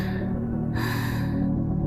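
Heavy, breathy gasping, like someone panting hard after exertion, sustained and close with a strained, slightly voiced tone.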